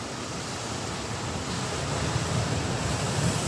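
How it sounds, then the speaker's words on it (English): Ocean waves break and wash onto the shore along a Maui coastline, a steady roar of surf that builds a little louder toward the end, with wind noise over the microphone and no voices. "I'm just checking out these waves. Like, the power behind some of these waves"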